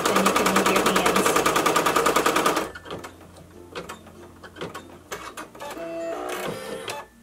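An embroidery machine stitches an appliqué onto a dish towel with a fast, loud, rhythmic mechanical chatter for nearly three seconds, then stops, leaving quieter clicks and handling sounds.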